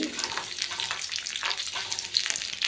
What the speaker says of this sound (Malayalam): നമ്മൾ ഉണക്കമുന്തിരി ഫസ്റ്റ് ഇട്ടിട്ടുണ്ട് അത് വേഗം കരിയും